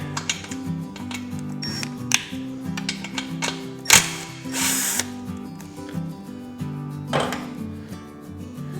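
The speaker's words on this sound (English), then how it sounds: "we're gonna remove this bolt right here" Ratchet and power tool working a bolt loose on a Benelli TnT 135 motorcycle, with irregular close clicking, a few sharp metallic bursts and a whirring spin over a steady low hum.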